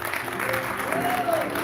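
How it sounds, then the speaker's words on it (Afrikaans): A church congregation applauding their new band at a Sunday evening festive service, a dense steady burst of clapping from many hands, with a voice briefly audible over it. "Kan ons vir hulle hande klap gee?"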